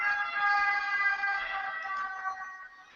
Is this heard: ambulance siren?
yes